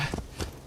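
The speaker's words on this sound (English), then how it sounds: "from where the spawn point is and the horse will magically appear." Hooves of a horse in a samurai-era video game clop in a few quick, close beats, brief and fairly loud.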